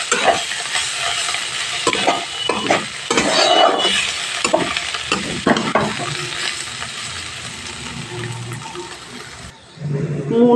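Radish greens and potatoes frying in a home kitchen pan, with a steady close sizzle broken by repeated scraping stirs and clinks of a spatula, and a sudden drop near the end.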